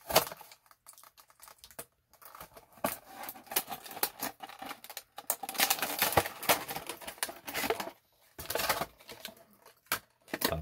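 Plastic blister packaging of a Star Wars Legacy Collection Imperial Engineer action figure is cut open, with close, irregular snips, crinkles and scraping clicks coming in uneven bursts with brief quiet gaps.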